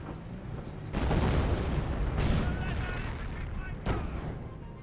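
Machine gun fire from a bunker rattles through a battle in Company of Heroes, a dense, steady roar of combat with a few heavier thuds standing out, while a commentator talks over it.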